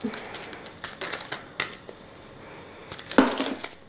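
Oracle cards from a mirror deck spill and tumble onto a surface, producing scattered light clattering taps and shuffling knocks over a few seconds, with a louder cluster near the end.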